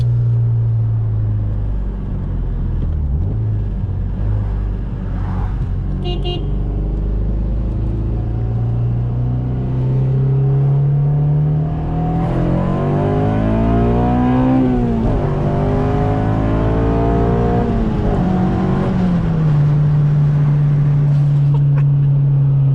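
A 2007 Honda Civic Si with about 200,000 miles revs hard through its VTEC crossover, its engine note climbing in pitch, easing off and then pulling up again. The note is loud and continuous, with steady road rumble underneath and no talking.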